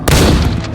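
A single booming gunshot from the video game Los Angeles Crimes, loud and close with a short decaying tail.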